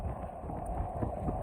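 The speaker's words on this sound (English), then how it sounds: "I'm trying to keep it up here close to me, but it's awful windy." Strong wind buffets a handheld microphone outdoors on a chilly Texas day, a dull low rumble that rises and falls in gusts throughout.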